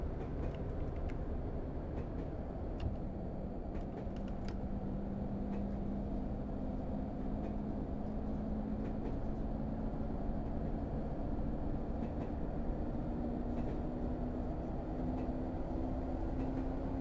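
Class 101 diesel multiple unit in a railway simulator game running between Bishop Auckland and Darlington, a steady engine drone with a slowly rising tone and faint rhythmic clicks from the rails.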